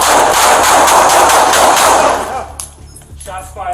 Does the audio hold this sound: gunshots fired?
yes